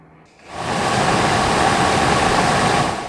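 A 2001 Jeep Cherokee blower motor, bench-tested on a 12-volt supply, spins up quickly into a loud, steady whooshing roar that holds evenly close by without talk.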